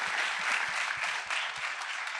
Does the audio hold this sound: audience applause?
yes